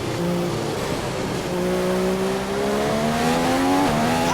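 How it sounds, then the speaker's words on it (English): Racing cars in a video game set at the Belgium circuit, engines droning at high revs with rising and shifting tones, a steady loud whine held throughout with no talk. "The car behind is running on full revs."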